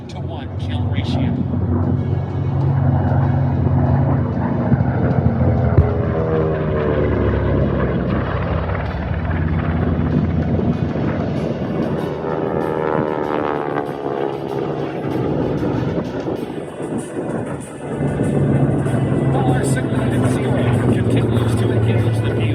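WWII propeller warbirds, including a PBJ, a Spitfire and a Hellcat, fly past at a Nellis AFB airshow with a loud, droning engine roar that swells and fades under continuous announcer talk and wind buffeting.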